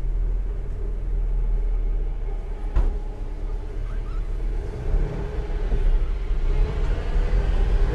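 Power steering on a Chevy R30 dump truck working while the engine runs: a steady, loud low rumble with a faint sustained tone over it and occasional knocks, with no speech.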